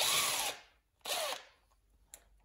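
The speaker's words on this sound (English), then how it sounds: "Just back these screws off." A power drill backs off the 10 mm valve cover screws on a John Deere and Suzuki outboard engine build, in two close whirring bursts of about half a second each, followed by a brief faint click.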